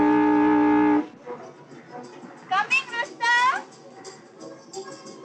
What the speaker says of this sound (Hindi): जरा हॉर्न भेजा।